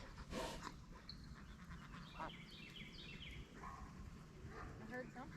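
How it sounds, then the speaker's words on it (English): A dog barks and pants in a backyard, short yelps and whimpering breaths set against outdoor ambience with birds chirping, while people speak quietly nearby. "Leesky's barking again."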